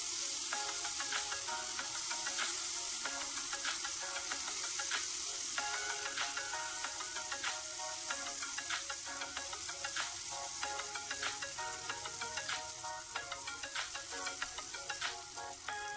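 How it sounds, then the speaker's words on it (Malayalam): Beef for a Kerala-style beef fry sizzles in hot oil over high flame, a loud, steady crackling hiss that stays constant throughout with small pops and no talking. "ഓയിൽ നന്നായി ചൂടായി വരുന്ന സമയത്ത് നമുക്ക് ബീഫ് ഇതിലോട്ടിട്ട് എടുക്കാം."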